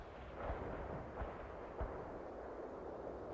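A World in Conflict artillery fire-support barrage booms in the distance, with several heavy thuds rolling out at uneven intervals beneath a constant wash of battlefield rumble.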